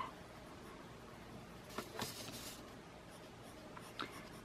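Colored pencil scratching across paper in close, quiet strokes, a steady soft rasp with a few sharper scrapes near the end; a fuchsia layer goes over the drawing with a somewhat dull pencil tip.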